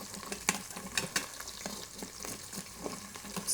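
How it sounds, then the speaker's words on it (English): A utensil scrapes browned bits of bacon off the bottom of an Instant Pot while cooking collard greens, giving repeated close scratchy strokes over a soft background sizzle. "Scraping off all the little bits on the bottom."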